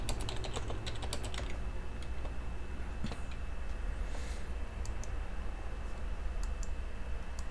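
Keys clatter steadily on a computer keyboard while someone types code for a Node Express login setup, with quick close-up clicks and brief pauses but no talking.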